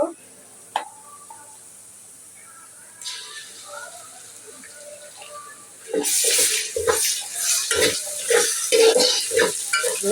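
Ginger garlic paste drops into a pan of browned onions for chicken biryani, starting quiet with a few clinks, then a loud hissing sizzle bursts up, broken by scraping and stirring sounds.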